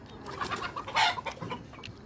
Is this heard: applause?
no